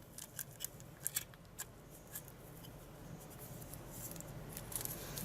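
A CADY corner rounder punches the corners off paper, giving several sharp, quiet snipping clicks in the first couple of seconds before a soft background hiss takes over.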